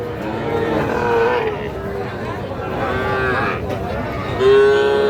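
Several young bulls and heifer calves low repeatedly at the Raniganj weekly cattle market in Ghoraghat, Dinajpur, with long drawn-out moos overlapping a busy crowd murmur.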